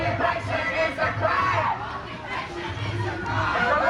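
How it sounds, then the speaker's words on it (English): A student strike protest crowd for Palestine, several hundred strong, roars continuously outdoors. Shouted chants and overlapping voices blend into a dense, steady wall of noise that swells and dips slightly. "It's a reasonably good sized crowd."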